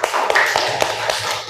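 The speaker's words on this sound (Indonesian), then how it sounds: "Tepuk tangan untuk Asfa." Hands clapping in applause in a classroom teaching session: a short, close run of sharp claps at an uneven rhythm, moderately loud.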